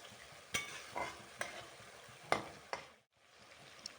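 Masala paste is stir-fried in oil for a spicy cabbage dish, a spoon scraping and stirring in soft, irregular strokes over a quiet sizzle, with a brief pause near the end.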